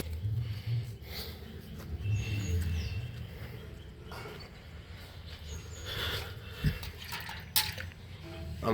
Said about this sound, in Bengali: দিয়ে উপযুক্ত পরিমাণ জল দিয়ে দেবো।